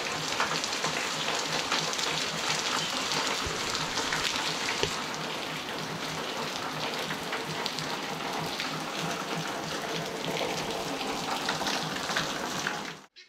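Steady rain pours down on a farm after falling since early morning, a dense continuous hiss of drops hitting surfaces and running water, loud and unbroken for the whole stretch before cutting off at the end.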